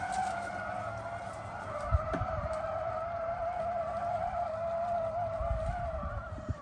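An eufy E18 robot lawn mower drives up a steep, rain-soaked grass slope, its drive motors giving a steady, continuous whine close by with faint scuffing and no voices.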